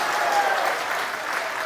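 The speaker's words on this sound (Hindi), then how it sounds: "ताली बजा दीजिए अच्छे से एकदम।" An audience at a large religious darbar gathering breaks into dense, continuous applause, a steady wash of many hands clapping at once.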